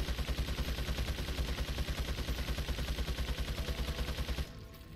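Rapid, sustained enemy gunfire in Resident Evil 4, a steady stream of loud, evenly spaced shots that fills nearly five seconds before cutting off abruptly near the end.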